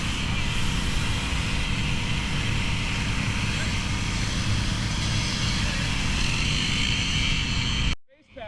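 A water jet sprays a baseball infield's dirt outdoors, giving a loud, steady broadband hiss that runs continuously and close before cutting off abruptly near the end, with a voice talking over it.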